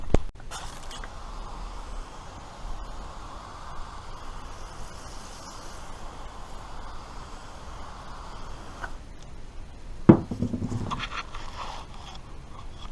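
A sprocket carrier comes off and the rear hub of a Suzuki FL125 Address scooter is split apart, giving long, close, grinding metal creaks followed by a sharp clunk and a short scraping burst near the end.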